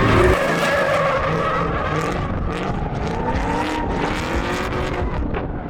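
A 1995 Nissan 240SX S14 with an LS1 V8 engine drifting, its tires squealing loudly and continuously over the revving engine, with shifting pitch as the car slides.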